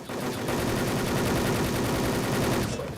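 Loud, rapid automatic gunfire from a video game runs nonstop for a few seconds in a tight, even rhythm of close shots, then cuts off abruptly.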